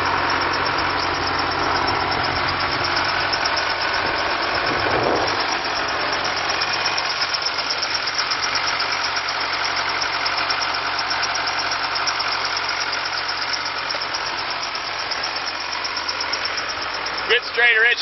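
A 2003 Case 70 XT diesel engine idling, with a steady, even rumble and a continuous knocking drone throughout, recorded close by. Faint talk runs under the engine noise.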